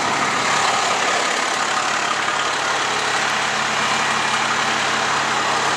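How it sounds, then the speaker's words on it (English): A fire truck engine runs steadily in pump mode, a loud constant drone with a broad whine and no talking. "now your truck is in pump mode."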